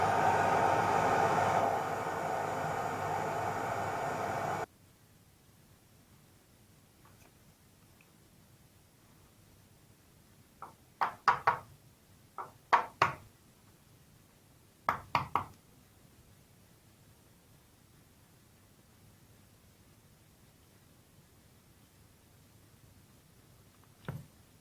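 A mallet drives a swingarm pivot bearing into a BMW F650 GS, with a few clusters of sharp, close knocks, roughly eight blows in all, separated by quiet stretches after an opening burst of hiss.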